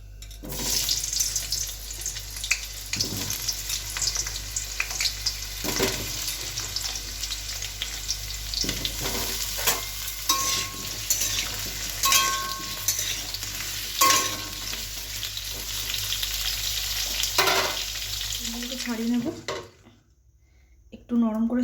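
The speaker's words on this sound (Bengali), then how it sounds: "এখন আমি আলুগুলো ভেজে নেব" Potatoes fry in hot oil in a pan, giving a steady, loud, close sizzle with occasional stirring clatter that runs continuously, then cuts off briefly near the end.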